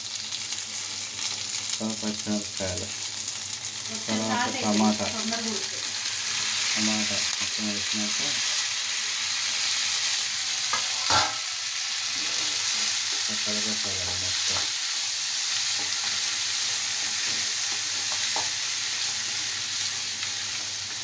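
Sliced onions frying in a pan after mint for a paneer curry, a dense continuous sizzle with rhythmic scraping strokes of a spoon stirring, close and steady, and no talk.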